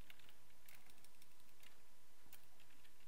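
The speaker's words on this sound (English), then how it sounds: "I'll type in new here." Quiet computer keyboard typing with scattered clicks and brief bursts of keystrokes, close but soft against a faint steady background hum.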